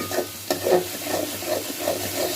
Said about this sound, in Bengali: দেখো মশলাটা কষাচ্ছি, একদম ভালো করে কষাবো, একদম ভাজা ভাজা করে ফেলবো।